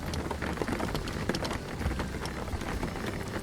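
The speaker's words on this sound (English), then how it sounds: "So we're going to leave them off and just enjoy the rain effect." Rain in the driving game Jalopy, a dense steady patter of drops across the car's surfaces, even and continuous with no voices.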